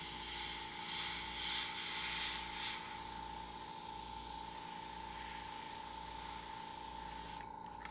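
An airbrush sprays paint onto a zombie-themed stencil painting with a soft, steady close-up hiss that runs for several seconds before cutting off.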